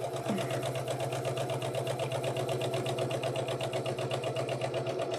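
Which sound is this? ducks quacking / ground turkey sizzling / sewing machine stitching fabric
sewing machine stitching fabric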